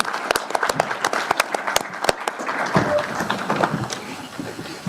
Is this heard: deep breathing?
no